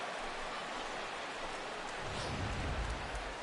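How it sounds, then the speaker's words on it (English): Steady rain hisses across a baseball game, a dense, even wash of droplets that swells slightly louder and rumbles lower in its second half, with no voices. "and Dan, when it comes to pitching in the rain, what changes?"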